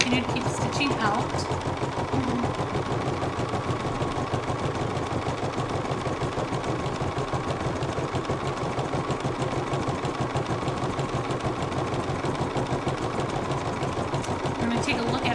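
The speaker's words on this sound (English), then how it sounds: "So I'm going to let those continue to keep stitching out." An embroidery machine stitches out pumpkin panels with a steady, fast, rhythmic mechanical whir and needle clatter that runs unbroken and fairly loud.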